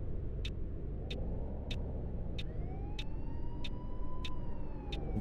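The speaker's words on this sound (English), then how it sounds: "I can hear the sirens going off." Police sirens wail in Fernbus Simulator on Xbox Series S, on a Mannheim to Strasbourg bus route, a rising and falling electronic tone sweeping over steady engine and road rumble, with regular clicking ticks throughout.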